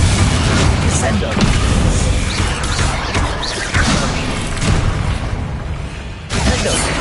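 In a Harry Potter video game, a Descendo spell slams down with a heavy booming impact, set against a dense, rumbling wash of loud battle noise that runs throughout.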